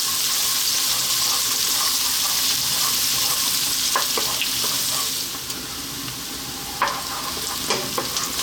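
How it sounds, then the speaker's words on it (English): Onions and garlic fry over high heat in hot oil, a loud steady sizzle joined by scattered clicks of stirring that grow sharper toward the end as the sizzle eases slightly, with no speech. "So as that oil heats up, in goes our onions and our garlic."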